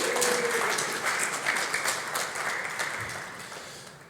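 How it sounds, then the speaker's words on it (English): An audience applauds together during a faith-themed talk, a steady wash of clapping from a crowd that stays strong for the full span and only gradually thins toward the end. "Give Ronan a big round of applause."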